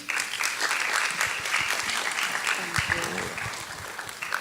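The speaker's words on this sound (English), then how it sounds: "Give them a round of applause." A school audience of sophomores applauds at a high school assembly, with sustained, fairly loud clapping mixed with some cheering and voices throughout.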